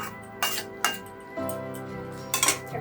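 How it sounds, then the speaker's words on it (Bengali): A metal lid is set onto a pot of Bengali pabda fish curry, giving several sharp metallic clinks and clatters spaced apart, close and fairly loud, with brief ringing in between. "এবার ঢাকা দিয়ে দিলাম"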